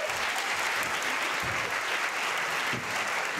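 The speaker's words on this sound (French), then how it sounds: "on peut les applaudir brièvement" Audience at an improv theatre festival gives a brief, steady round of applause, a dense wash of clapping from a crowd that holds evenly for a few seconds.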